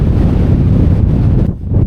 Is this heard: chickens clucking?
no